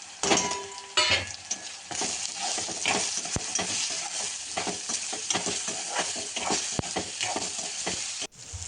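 Spices roasting in a pan for a dry bean stir-fry, with a steady close sizzle under repeated stirring and scraping strokes, one sharp tap near the end.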